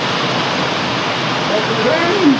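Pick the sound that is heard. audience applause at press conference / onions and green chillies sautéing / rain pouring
rain pouring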